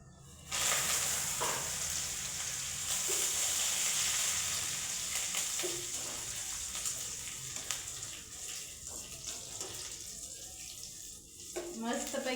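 Curry leaves fry in hot oil after onions in a pan, giving a bright, steady sizzle that is loud at first and then settles, with occasional clicks and faint stirring underneath.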